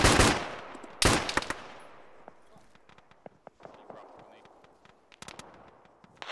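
Gunfire in the Arma military video game during a ShackTac squad firefight: two loud, sharp shots ring out close by, followed by a scattered run of fainter, more distant cracks and pops.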